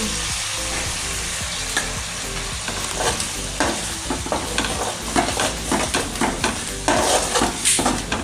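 Oil sizzles and fries steadily while a spoon stirs two spoonfuls of curd into it, scraping against the pan in irregular strokes, close by, while cooking whole okra curry.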